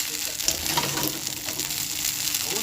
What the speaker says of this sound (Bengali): গোলমরিচের গুঁড়ো দিয়ে আমি আরও ভালো করে নাড়াচাড়া করে নেব।